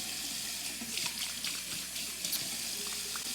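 Water runs steadily from a bathroom sink tap as hands are wet under it, a close, constant splashing gush with no talking.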